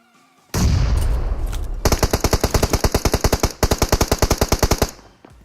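PUBG Mobile gunfire: a blast-like burst of noise opens, then a Vector fires a long, rapid, evenly spaced volley of loud close shots that breaks off briefly and continues before stopping.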